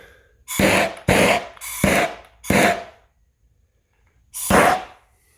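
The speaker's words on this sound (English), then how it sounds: "And then we're going to blowtorch that." A blowtorch passes over freshly spread StoneCoat epoxy resin on a pallet board BBQ table top, giving five short, loud roaring hiss bursts: four in quick succession, then a pause and a final burst.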